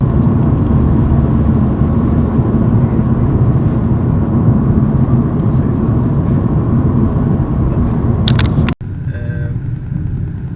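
Continuous low road rumble and engine drone from inside a car on a test drive, a 2013 Skoda Octavia or 2015 Volkswagen Golf, loud and steady with a brief dropout near the end.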